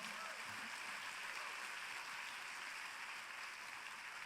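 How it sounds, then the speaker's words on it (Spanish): Church congregation applauding together during an evening worship service, a steady, even wash of many hands clapping that fills the room at moderate level throughout, with no voices on top. "Dale un fuerte aplauso al Señor."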